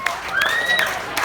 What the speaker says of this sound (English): let's give her a big round of applause there